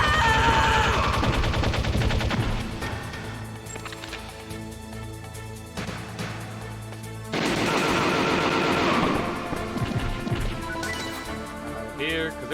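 Rapid automatic gunfire from Metal Gear Solid gameplay, loud bursts of repeated shots with dense crackling volleys, strongest at the start and again midway, over a background game score.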